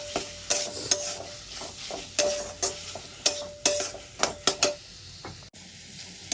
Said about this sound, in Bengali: আমি সব বেসিক মশলাগুলো দিয়ে নিয়েছি, এবার একসঙ্গে কষাতে থাকবো।